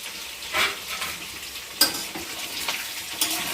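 Curry leaves frying in hot oil with mustard seeds, a steady close sizzle broken by a few sharp scraping stirs of the spoon in the pan.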